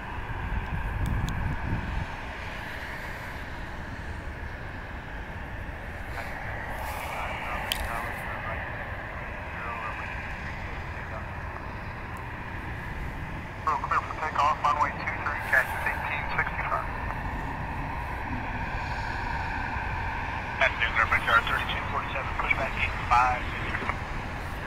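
A US Airways Airbus A319 in Panthers livery takes off from T.F. Green airport, a steady distant jet roar running the whole time, with faint radio voices layered over it.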